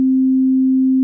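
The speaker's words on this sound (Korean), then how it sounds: "소리의 기본 베이스가 되는 사인파라는 것입니다." Pure, steady sine wave tone from an analog synthesizer oscillator, a single clean pitch with no harmonics, loud and unbroken, sounding alone.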